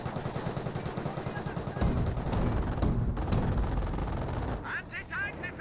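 Rapid machine-gun bursts in Company of Heroes rattle at an infantry squad, a fast regular stutter giving way to dense overlapping gunfire and explosions, with a voice talking over the battle.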